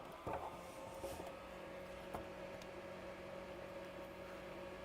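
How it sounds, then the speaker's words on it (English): A fume extractor runs at a soldering bench during a MacBook repair, giving a steady fan-like whir that holds evenly throughout, with faint clicks and bench noises over it. "I better turn on my fume extractor"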